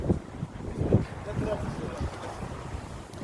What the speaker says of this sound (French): on a quand même beaucoup de vent pour un mois d'avril